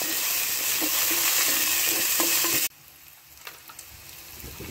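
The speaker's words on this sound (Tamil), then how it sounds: "அது கூட கொஞ்சம் போது ஆனியனு, அது கூட கருவேப்பிலை, இதை போட்டு நல்லா ஃப்ரை பண்ணிக்கங்க." Onion and curry leaves fry in a pan with a loud, bright sizzle and a few stirring knocks, then the sizzle suddenly drops to a much quieter crackle.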